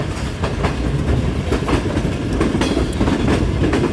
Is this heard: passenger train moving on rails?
yes